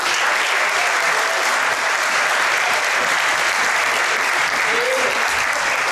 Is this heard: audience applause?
yes